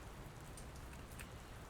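Steady rain hiss in the video game Dr. Langeskov, a soft continuous patter with faint scattered drop ticks, quiet and even throughout with no voices.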